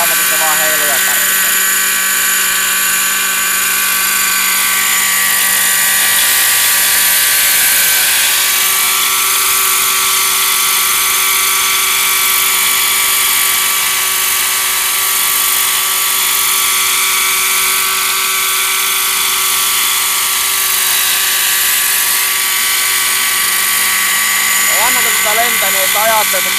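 A Hirobo Freya .90 radio-controlled model helicopter in flight, with a loud, continuous high-pitched engine whine and rotor buzz whose pitch swells and dips as it manoeuvres, holding steady throughout.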